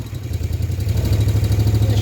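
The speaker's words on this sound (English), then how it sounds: "The motor is so quiet. Pulls well." A Moto Guzzi V50 Monza motorcycle engine runs steadily on the road, its low, even exhaust throb growing slightly louder and firmer through the clip, with no talking.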